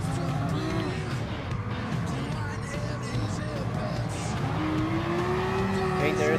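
SRT Tomahawk GTS-R Gr.1 futuristic race car in Gran Turismo Sport, its engine droning steadily throughout with a rising tone near the end, while someone talks over it.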